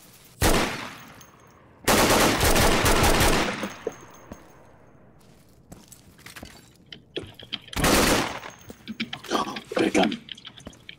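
Loud bursts of automatic gunfire in the Insurgency video game, two long sustained volleys near the start and another heavy burst later, with scattered shots and clatter between them.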